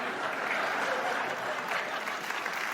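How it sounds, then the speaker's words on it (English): A stand-up comedy audience applauds in a dense, steady wash of clapping that holds at even loudness throughout. "No, don't applaud that."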